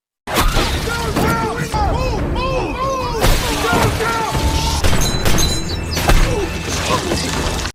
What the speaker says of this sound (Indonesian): tiba-tiba dia dan beberapa anggota Interpol ditembak satu persatu